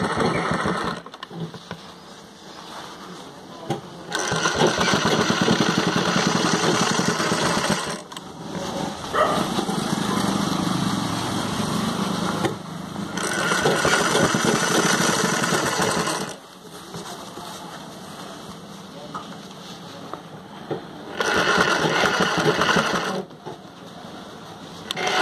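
Sewing machine stitching a zip fly on a jeans pant, running in several long loud bursts of steady motor whir separated by brief pauses.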